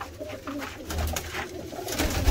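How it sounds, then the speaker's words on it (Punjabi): A red-tailed pigeon coos in low, soft, repeated calls close by, with a faint murmur of background noise around it. "ਮਾਸ਼ਾਅੱਲਾ ਇਹ ਕਬੂਤਰ ਆਇਆ"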